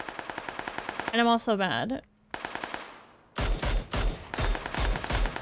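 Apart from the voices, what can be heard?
gunshots from a shooter video game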